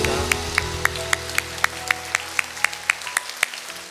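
A church congregation claps in unison during a worship service, a sharp rhythmic beat of about a dozen even claps over a held organ or keyboard chord that fades at the end.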